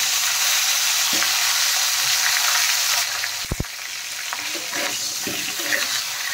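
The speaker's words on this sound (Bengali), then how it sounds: "মাছ ভাজা হয়ে গেছে, এখন আমি ফুলকপিগুলো ভেজে নেব।" Cauliflower pieces fry in hot oil in a pan after fish, a loud continuous sizzle with stirring scrapes and a couple of sharp clinks, easing slightly partway through.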